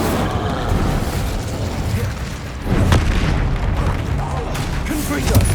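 Incendio fire spell cast in Hogwarts Legacy, a burst of magical flame with a booming whoosh over dense game combat noise, a sharp swell near the middle and more crackling impacts after.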